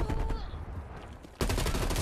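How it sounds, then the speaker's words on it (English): Rapid gunfire in the video game Call of Duty Cold War, bursts of automatic shots at the start and a loud, dense volley erupting again after a brief lull. "Who the hell is still shooting?"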